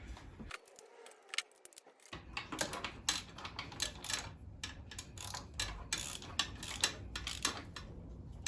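A ratchet clicks in rapid bursts while tightening spark plugs on a Ford Ka engine, close and fairly quiet, with short pauses between runs of ticking.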